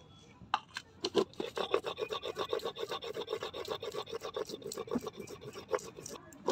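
Chilies are ground by hand on a flat grinding stone, a quick run of rough rasping scrapes in an even back-and-forth rhythm, close and moderately soft.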